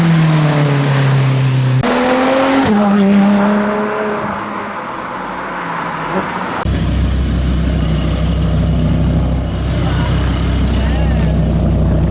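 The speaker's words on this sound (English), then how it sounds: "Lexus doing some revs, he's got some gold bits on" A Nissan 350Z engine revs up and down loudly nearby at a supercar show, rising and falling in pitch, then settles into a deep rumble with crowd noise around.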